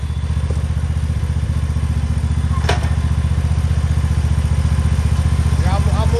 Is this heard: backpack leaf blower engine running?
yes